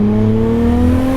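A big-turbo Nissan 300ZX with a swapped RB engine holds a steady, loud droning note, a smooth close engine hum with no talk.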